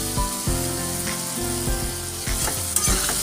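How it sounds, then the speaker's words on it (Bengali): Ground spice paste with salt, turmeric, cumin and coriander powder for egg curry sizzles loudly in a pan, with repeated scraping stirs of a spatula cutting through the steady frying hiss. "দিয়ে ভালো করে কষিয়ে নেব।"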